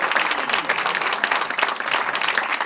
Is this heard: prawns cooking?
no